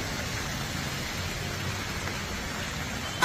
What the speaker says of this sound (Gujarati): તાપી જિલ્લામાં આજે પણ વહેલી સવારથી વરસાદ જોવા મળી રહ્યો છે